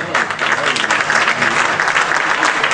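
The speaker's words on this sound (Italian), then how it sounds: "qua un applauso ai nostri tre ospiti eccezionali" An audience at a live blues show applauds three guests, with dense, loud, continuous clapping from a sizable crowd filling the whole moment, and faint crowd voices beneath.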